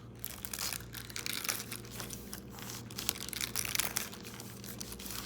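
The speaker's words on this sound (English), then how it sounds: "We're actually going to cut through the leaf part also." A sharp knife slicing through the leafy crown of a pineapple gives dense crunching, crackling and tearing of fibrous leaves, steady and close for several seconds with no talk.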